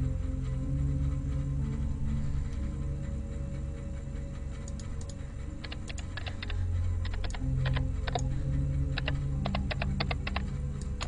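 Computer keyboard typing in a Korean horror radio drama, an irregular patter of crisp key clicks in short bursts over a low steady hum, fairly close and without speech.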